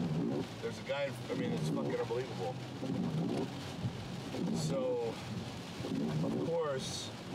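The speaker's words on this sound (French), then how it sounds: "aujourd'hui est le jour où on doit conduire partout en pleine pluie torrentielle" Heavy torrential rain drums steadily on a car while driving through Los Angeles, a dense constant wash with passing traffic noise and someone talking over it throughout.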